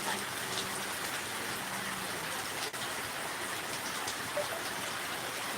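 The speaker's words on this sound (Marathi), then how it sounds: "जोरात आहे पाऊस" Heavy rain pours steadily on an outdoor surface, a dense, continuous hiss of drops that stays loud and even throughout with no talking.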